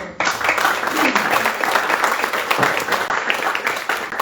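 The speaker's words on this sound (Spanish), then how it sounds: "Muchas gracias. Gracias a ti, Carlos. Aplausos." Loud, dense applause from the audience at a book presentation at the Fondo de Cultura Económica, with many people clapping continuously and close by for several seconds.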